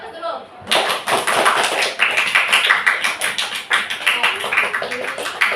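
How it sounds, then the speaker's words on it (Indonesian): A classroom of seventh-grade students applauds together, a dense burst of clapping that starts abruptly and keeps up steadily for several seconds, with a few voices mixed in. "Kasih aplaus dulu."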